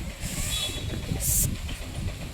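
A moving train on a trip to Araku carries a steady rumbling roar, with hissing bursts rising briefly above the continuous rail noise.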